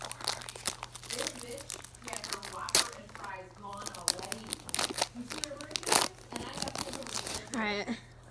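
A football trading card pack is torn open up close, with repeated sharp crinkling and tearing of foil wrapper while a child and an adult talk over it.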